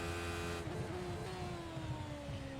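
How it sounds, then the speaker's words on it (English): A race car engine in the iRacing sim game drones and its pitch climbs steadily as the revs build, a continuous mechanical whine with no talking. "You can hear the revs starting to climb."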